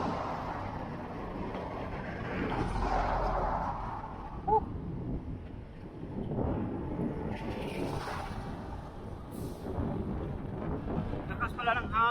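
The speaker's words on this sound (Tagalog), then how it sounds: "hangin." Wind buffets the microphone during a solo road bike ride, a steady low rumbling roar that surges and fades, with brief spoken bits mixed in.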